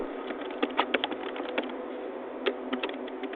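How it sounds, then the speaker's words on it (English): Fingers type on a computer keyboard in short, uneven runs of close, crisp key clicks, with brief pauses between bursts and no talking. "Maybe here I type surname."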